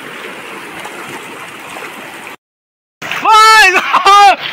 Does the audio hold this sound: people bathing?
yes